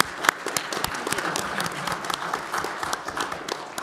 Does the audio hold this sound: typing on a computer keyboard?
no